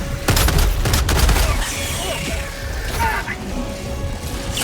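Sentry gun in the video game Helldivers 2 fires in a loud, dense burst of shots and explosions at the start, then mechanical whirring and clatter continue under the gunfire.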